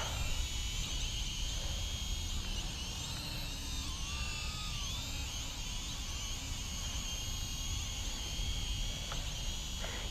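A WLtoys Q323-B WiFi FPV drone lifts off and keeps flying, its small motors giving a steady high-pitched whine with shifting tones, continuous over faint background noise.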